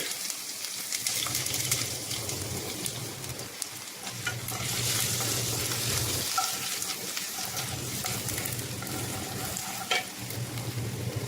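Ginger sautés in olive oil in a hot pan, a close, steady sizzle with frequent stirring and scraping and brief dips in between.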